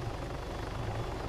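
Helicopter in the video game ARMA 3 Altis Life, a steady rotor thrum with a continuous low pulsing beat and broad whooshing noise, moderately loud with no voices.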